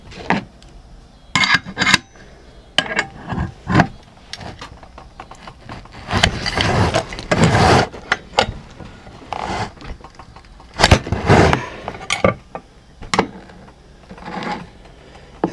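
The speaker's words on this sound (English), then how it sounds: "Gears are turning." Gears turning inside a vintage Delta table saw under repair, heard as intermittent mechanical grinding, rubbing and clunking bursts that stop and start irregularly, close by.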